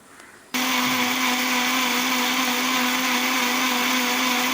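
A mixer grinder whirs loud and steady, blending chutney to a fine paste, starting abruptly after a brief quiet moment and running without pause.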